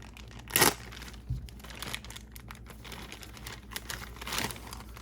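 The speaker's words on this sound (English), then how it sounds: "Let's open this bag up." Plastic bag of parts from a Haiboxing 16889 RC car kit being torn open and handled, with close, loud crinkling and rustling throughout and sharper bursts of tearing.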